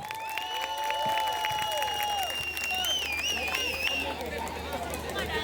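Scattered applause and crowd noise at a Sangeet dance performance sit under a loud announcer's voice and tonal music.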